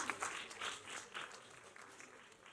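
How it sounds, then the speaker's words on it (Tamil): Guests at a Tamil film's audio and trailer launch event applaud, a faint, scattered patter of clapping in a few soft bursts that thins and fades out within moments. "ஒரு கைத்தட்டல் கொடுத்தலாம்"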